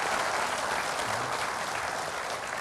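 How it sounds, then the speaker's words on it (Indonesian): An audience at a televised evening forum with former Jakarta governors claps steadily and continuously, a broad wash of hand claps at moderate distance with no speech over it. "kita berikan tepuk tangan untuk Bang Yos."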